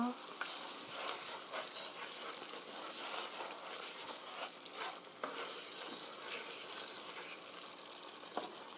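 Orange chicken sauce thickened with starch bubbling and sizzling in a pan with the cooked chicken, a steady close frying hiss with occasional stirring scrapes throughout.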